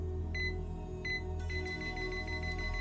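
Heart rate monitor in the video game Yakuza: Like A Dragon gives short, evenly spaced electronic beeps over a steady low hum and background game ambience.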